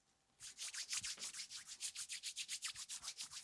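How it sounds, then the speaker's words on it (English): A pair of hands rub briskly together in a rapid, even back-and-forth rhythm of close, dry swishing strokes that goes on without talk. "Now, let's see what happens if I rub my hands."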